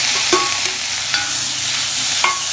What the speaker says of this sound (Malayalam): തക്കാളി ചേർത്ത് കൊടുക്കാം.